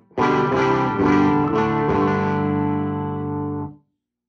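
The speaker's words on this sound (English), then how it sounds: "This is the Fame Form 4 bridge pickup. Volume all the way up, volume around 4." Distorted electric guitar through a Fender Bassman clone amp with Warehouse Green Beret speakers, played on the bridge pickup. A few loud strummed chords ring out alone for about three and a half seconds, then cut off sharply.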